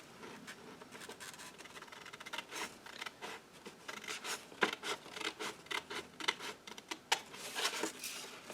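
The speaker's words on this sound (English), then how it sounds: "let me just cut this off real quick here" Scissors or a blade cut through paper for a craft mailer, close and soft, in a series of uneven scraping, rasping strokes that quicken toward the end, with no voices.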